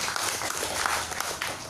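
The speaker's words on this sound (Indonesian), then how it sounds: "Tepuk tangan buat milenial dulu." Audience applause at a youth leadership forum on local mayoral candidates in Tangerang Selatan, a short burst of crowd clapping, fairly loud and busy, lasting under two seconds with no voices over it.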